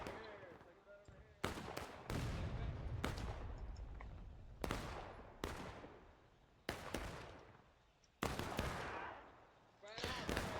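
Cannon fire in a Civil War–era tactical video game, a series of loud, sharp booming blasts roughly every second or two, each decaying into rumble, with some voice in the background.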